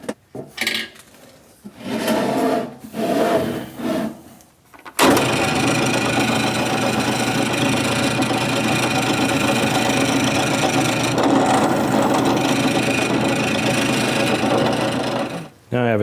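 A drill bores holes into the top of an electronics enclosure box on a lowered drill press table. Short whirring bursts give way to a long, loud, steady grinding run that stops abruptly near the end.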